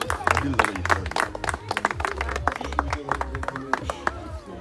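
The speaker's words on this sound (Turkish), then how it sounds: "Alkışlarla bir madalya daha yerine veriyoruz." Parents and children at a father-child camp applaud during a medal presentation, scattered clapping mixed with overlapping talk and crowd chatter nearby.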